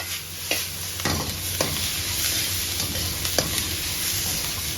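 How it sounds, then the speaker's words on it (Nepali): Cabbage being stirred in a hot pan with capsicum and chicken for homemade chicken fried rice, a steady loud sizzle under repeated spatula scrapes and clacks, with no talking. "क्याबेज राखेर एकछिन यसलाई चलाउनुहोस्।"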